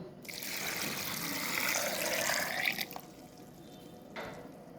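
Water pours steadily into a pressure cooker holding potatoes for about three seconds, then stops; a brief second splash follows shortly after.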